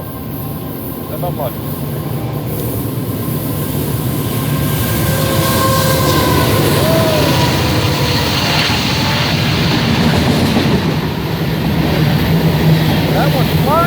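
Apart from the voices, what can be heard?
train passing by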